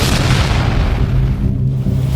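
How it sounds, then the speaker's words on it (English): A massive explosion roars as a loud, sustained low rumbling blast, filling the whole short stretch with dense booming noise and no voices. "a massive explosion tore through the school."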